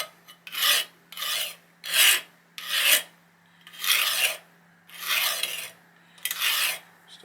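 A hand file rasps across the burred edge of a damaged kitchen knife in seven separate strokes, each a short, bright, scratchy rasp with a brief pause between, close and fairly quiet with no talk.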